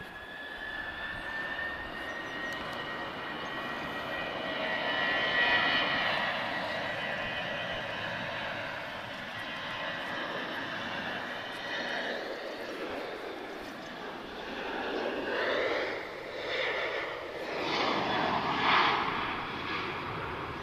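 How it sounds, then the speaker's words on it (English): A Transavia Boeing 737 NG jet departs from Lisbon Airport with a loud, sustained engine roar that swells and shifts in pitch as it accelerates, steady and continuous throughout. "Transavia about to depart"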